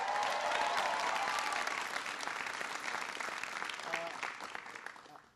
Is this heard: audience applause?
yes